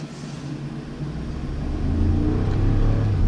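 A 2004 Chevy Duramax pickup truck accelerates from inside the cab, the diesel engine's low rumble building and growing louder as speed rises.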